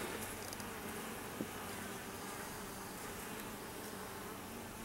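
Honey bees swarm and buzz around an opened hive during an inspection, a faint continuous drone with a brief knock partway through.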